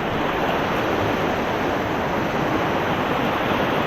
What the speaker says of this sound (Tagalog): Ayan, lakas ang agos.